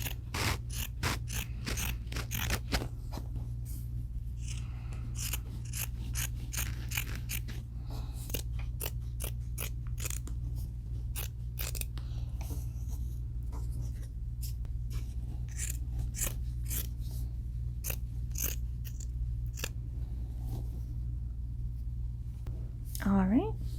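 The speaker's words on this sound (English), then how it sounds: "we'll start to cut strips through both sides of the t-shirt" Scissors snip strips through both layers of a t-shirt in a rapid run of close crisp cuts, with a steady hum underneath and a voice speaking at times.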